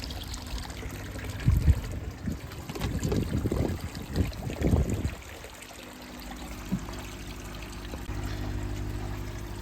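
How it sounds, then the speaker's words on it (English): Water from a pond shower trickling and splashing into a koi pond. The sound is a steady, close, broadband pour that swells and fades irregularly, with no voices. "I've gone from no shower in my pond to technically 3 shower in my pond temporarily"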